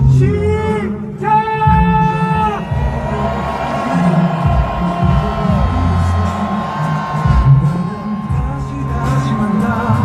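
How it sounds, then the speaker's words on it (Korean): A large crowd at a political rally in Cheonggye Plaza roars, cheers and shouts continuously and loudly, with whoops and a brief melodic vocal tone rising over the din near the start. "여러분, 함성 시작!"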